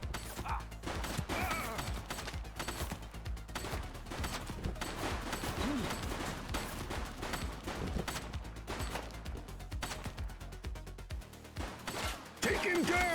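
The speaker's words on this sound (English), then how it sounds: "She's shooting!" Gunshots crack repeatedly during a shootout in the 1983-set police game The Precinct, a loud, continuous fusillade of overlapping shots and impacts with game voices mixed in.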